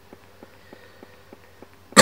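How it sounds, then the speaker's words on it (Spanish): A single sharp cough bursts out close to the microphone at the very end, after a quiet stretch with soft regular ticking. "Perdón la tos."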